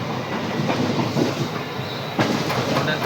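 A WDG4D diesel locomotive hauls the Rajkot-Porbandar Express near Gondal, with steady rolling rumble and rhythmic clickety-clack of wagon wheels over rail joints heard up close, no voices.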